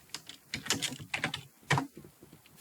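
Quick bursts of keystrokes on a computer keyboard, light close clicks in irregular clusters, with no voice.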